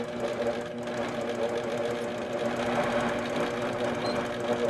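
An Intelliquilter computerized quilting machine stitches in the ditch on a prepared quilt, giving a loud, continuous close-up mechanical hum and rapid needle chatter throughout.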